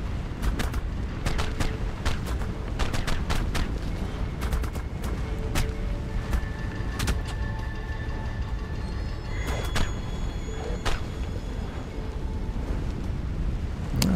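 Gunfire in the ARK: The Island video game on Xbox: a long run of sharp, irregular shots and bursts, some in quick clusters and others spaced apart, over a constant rumbling game ambience, with no talking.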